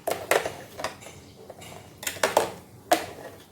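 A metal spoon stirs warm milk with melted dates and flattened rice in a pot, giving sharp clinks and scrapes against the sides in irregular bursts, close by with no talking.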